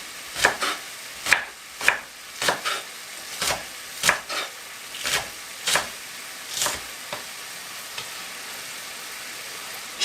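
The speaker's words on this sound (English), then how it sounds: "Chop that straight inside of it, just like that." Spring onion being chopped on a board during Jamaican cooking of pak choi and saltfish: sharp knife strikes, close and irregular, in small clusters over a faint background hiss.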